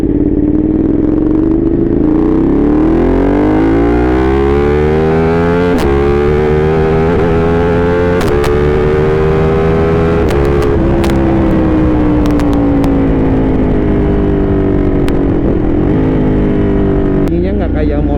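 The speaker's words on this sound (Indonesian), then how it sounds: "Bunyinya nggak kayak motor-motor biasa gitu" A Ducati Panigale 1199S Ohlins superbike's engine drones loud and close while riding, its pitch climbing and falling through steady revs with a rider talking over the noise.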